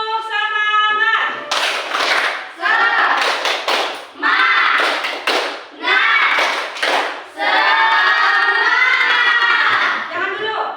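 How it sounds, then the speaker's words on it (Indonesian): A school class does a rhythmic spirit clap, bursts of loud hand claps in patterned groups broken by short pauses, with children chanting along and a sustained voiced tone at the start. "Tepuk semangat."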